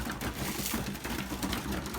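Belgian racing pigeons settled in their loft, a steady low murmur of cooing and shuffling with no clear distinct calls, close and fairly quiet throughout.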